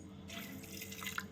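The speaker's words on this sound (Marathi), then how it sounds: "थोडं पाणी टाकून" Water is poured onto potatoes in a pressure cooker in a home kitchen, a faint brief splashing trickle with a light drip near the end.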